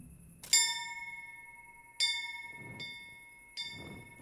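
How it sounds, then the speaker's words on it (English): Three struck bell tolls in Kingdom Come: Deliverance, each a sharp clang that rings on with a long metallic hum and fades, spaced about a second and a half apart, with faint rustling in between. "Let's ring this bell"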